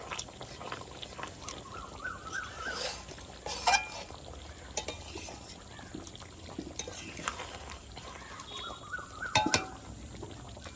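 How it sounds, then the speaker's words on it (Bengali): A spoon stirs fried pangas fish curry with chopped coriander in a pan, giving soft, intermittent scraping and clinks against the pan over a faint background. "এবার একটু নেড়ে চেড়ে নেব"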